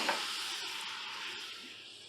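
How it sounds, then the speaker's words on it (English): Risotto rice sizzling in a pan with dry white wine just added and a spoon stirring through it, a steady close hiss with faint scraping and no voices. "And you keep stirring while the rice absorbs the wine."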